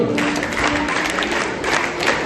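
School students at an investiture ceremony perform a scout clap, a burst of crowd clapping that fills a hall and holds fairly even over a couple of seconds.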